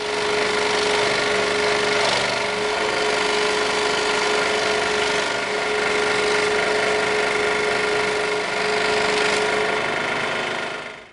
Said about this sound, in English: we're going to cut that on the scroll saw because it's got some kind of squirrely corners there